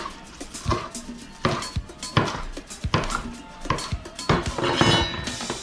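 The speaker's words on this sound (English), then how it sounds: "So scallions are not going to get cut too big" A kitchen knife chops scallions on a board, a series of close, crisp taps in an uneven steady rhythm, about a dozen strikes with light clatter between.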